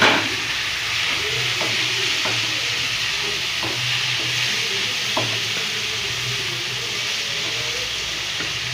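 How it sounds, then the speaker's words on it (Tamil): Tomatoes added to onions frying in a pan, a steady sizzling hiss with several sharp scrapes as the pan is stirred, close and continuous. "இப்போ தக்காளி போட்டுக்கலாம்."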